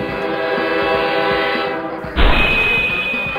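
A loud train horn blares steadily, then a sudden heavy crash and rumbling impact cut in near the end as the train hits a car stalled on a level crossing.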